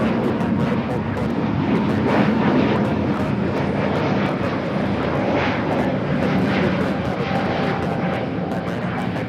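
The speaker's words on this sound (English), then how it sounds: "7849 taking off to Oaxaca on the A320neo" An Airbus A320neo takes off at LAX, its jet engines producing a loud, steady, broadband roar that holds strong for the whole stretch with no voices over it.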